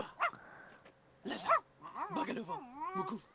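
A dog gives short yipping barks and whimpers in a home setting, in brief bursts close by, with people talking around it.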